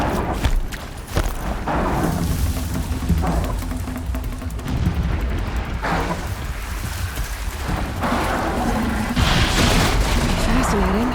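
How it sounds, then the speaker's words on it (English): Explosions and gunfire rumble in a Horizon Zero Dawn battle, a dense barrage of booms and cracks continuing throughout with voices speaking over them. "Explosions in the distance."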